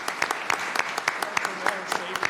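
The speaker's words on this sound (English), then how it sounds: "round of applause for them for their dedication" Applause at a city council meeting, a modest crowd clapping in distinct, irregular claps over a steady background patter, fairly close and moderately loud.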